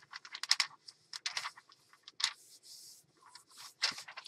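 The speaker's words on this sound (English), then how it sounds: "So I'm just kind of folding it just a little bit." Close, quiet paper crinkles, soft taps and brief scrapes come as a book page is folded by hand into a mixed media folio journal base, in short irregular bursts.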